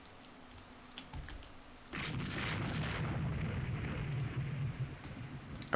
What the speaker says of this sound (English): her rear guns are still available and firing at us